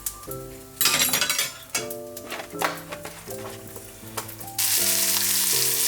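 Burger and bacon frying in a pan, with steady loud sizzling that swells and fades in bursts, overlaid with musical tones, ending in a strong continuous sizzle.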